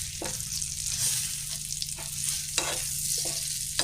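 Bright, dense sizzle of spices with turmeric powder frying in a pan, with periodic scraping strokes of a spatula stirring, close and steady throughout.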